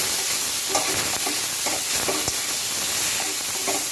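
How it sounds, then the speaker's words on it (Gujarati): Tomatoes, onions and chillies sautéing in a pan, giving a steady sizzling hiss with occasional stirring scrapes, close and fairly loud, no talking. "આ રીતના આને સારી રીતના આપણે શેકી લઈએ ટમેટાને અને ડુંગળીને"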